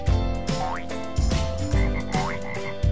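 Repeated deep frog croaks in a rhythmic series, close and loud, with a few rising chirpy calls mixed in.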